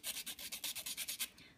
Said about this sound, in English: sanding to remove any obvious splinters